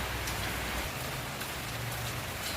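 Heavy rain pours down steadily, a dense, loud hiss of drops hitting surfaces with no pauses.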